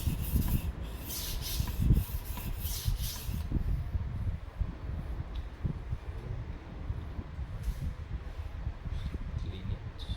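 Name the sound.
sharpening a chipped knife on a stone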